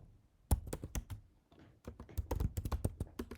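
Typing on a computer keyboard while entering a Linux terminal command, a quick series of crisp, close keystrokes in two bursts split by a short pause, with no voices.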